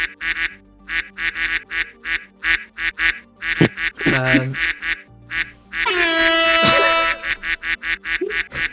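A person imitates a duck, giving a run of nasal quacks. The quacks come in a steady rhythm, followed by longer drawn-out honking calls, all loud and close.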